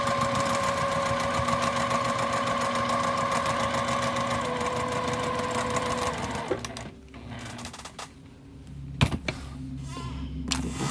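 A sewing machine stitches a seam on a card trick quilt block, running as a steady, close whir for about six seconds before stopping, followed by quieter handling sounds.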